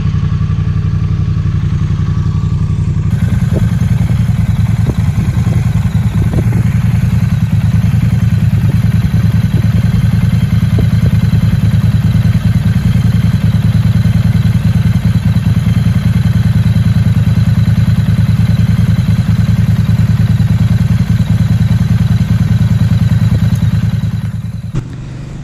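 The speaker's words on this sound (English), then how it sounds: "please sit back, I'll start the bike up, and I'll give you an idea of how it sounds." A 2019/20 Triumph Street Twin motorcycle starts with a cranking clatter and settles into a steady, loud, close idle that thrums evenly for over twenty seconds before cutting off, with no talking.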